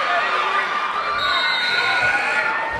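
Home crowd at a girls' varsity high school basketball game, Norristown against Upper Merion, cheering and shouting around a free throw, a loud continuous roar of voices with no clear pauses.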